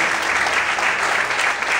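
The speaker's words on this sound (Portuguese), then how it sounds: "Aplaude o Senhor mais forte" Church congregation clapping loudly and steadily during worship, a close, dense burst of applause with no pause.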